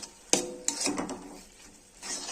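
A utensil knocks against a frying pan while onion is stirred into frying gima greens. Two sharp clacks are followed by softer scraping and a faint sizzle, close and fairly quiet.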